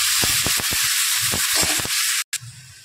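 Chopped onions sauté in a pan for a dhaba-style methi masala, giving a steady close hiss of frying broken by several spatula clicks and scrapes, with the sizzle cutting out briefly near the end.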